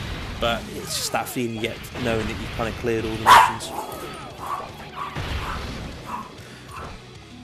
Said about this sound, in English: my dog has just seen a squirrel